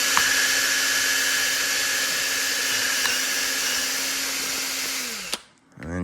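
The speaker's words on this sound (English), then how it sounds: "It'll start off slow till you get the drill to sort of bite in." A power drill whirs steadily while boring a hole, holding one loud, even pitch for several seconds before winding down and cutting off abruptly near the end.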